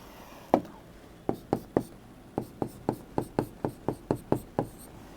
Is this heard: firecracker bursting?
no